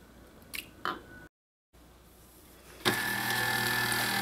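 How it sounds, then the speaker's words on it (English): A KitchenAid stand mixer starts up and runs steadily, beating cooled choux-style dough as eggs are worked in. A couple of soft clicks and a brief silence come first, then the motor whirs loudly and evenly up close. "because I'm going to use my KitchenAid mixer"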